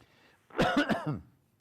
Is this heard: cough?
yes